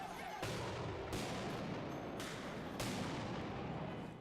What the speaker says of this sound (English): Portland police used flashbangs to break up a fight